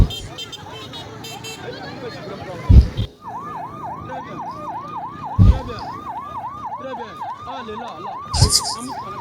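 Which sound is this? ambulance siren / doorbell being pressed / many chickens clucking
ambulance siren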